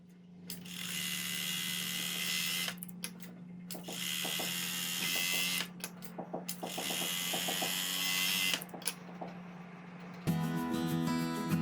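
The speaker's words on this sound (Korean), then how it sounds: "포켓 원단은 위쪽을 제외하고 3면을 오버록 처리하고 오도록 하겠습니다." An overlock serger stitches three edges of pocket fabric for a drawstring bag, running in three sustained bursts of rapid mechanical whirring with short pauses between them over a steady low hum, then shifting to a different buzzing tone at the end.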